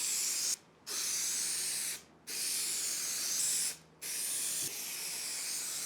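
Spray adhesive hisses from a can onto a van wall panel in four steady, close bursts of about a second and a half each, separated by brief silent gaps.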